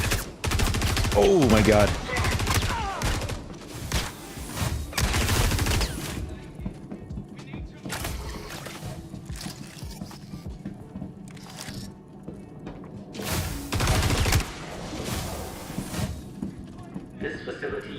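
Heavy weapon fire in the Star Citizen space game, with loud bursts of shots packed into the first six seconds and another burst near fourteen seconds, while a player talks over the action.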